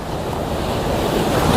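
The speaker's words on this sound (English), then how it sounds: "Just watching this water creep up, this tide creep up." Ocean surf with the tide coming in on an open shore, a steady, broad wash of waves rising slightly in loudness, with some wind buffeting the microphone.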